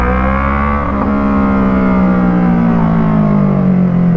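Yamaha MT-03 2024 motorcycle fitted with an Arashi exhaust and DB killer, a steady loud engine drone with a slowly falling pitch, close and continuous, with no talk.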